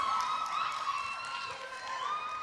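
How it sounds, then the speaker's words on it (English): Audience at the Northern Caribbean University Lignum Vitae Film Festival 2018 applauding and cheering, a steady dense crowd roar with clapping that holds at even loudness throughout. "listen to that applause"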